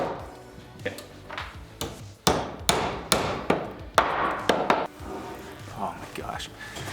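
An Estwing hammer drives a nail in a run of sharp, ringing strikes, roughly a dozen in quick succession with a couple of isolated blows before and after, people talking faintly underneath.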